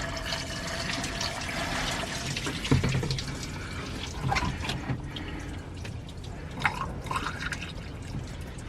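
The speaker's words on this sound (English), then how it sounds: "I have pink coolant coming out, which is a great thing." Pink coolant flows and drips out while a 4.3 Mercruiser boat engine is being winterized, a continuous watery trickle and splashing with a few louder drips and knocks.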